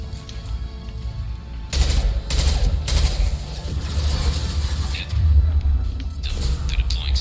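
SMG fire in the Mass Effect video game, with loud sustained bursts of rapid gunfire and heavy rumbling impacts close up, plus a brief lull between volleys.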